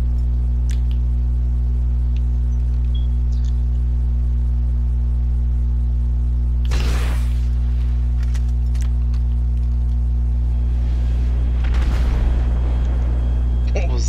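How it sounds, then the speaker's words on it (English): An explosion bursts in Grand Theft Auto V, a sudden broadband blast midway followed by a second rumbling one, both over a constant loud low hum from the game. "What was that explosion?"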